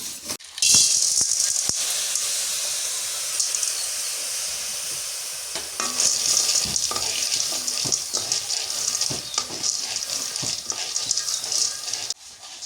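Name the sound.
corn kernels frying in a pan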